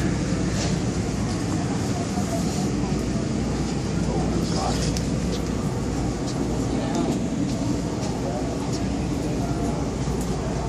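DC Metro train running, a continuous loud rumble and roar of the rail car in motion with faint squeals, heard from inside the carriage, steady throughout.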